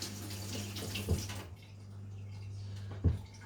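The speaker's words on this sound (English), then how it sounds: "I'm just gonna wash my hands quickly there." A tap runs quietly while hands are washed under it, with a steady low hum and a couple of soft splashes or bumps.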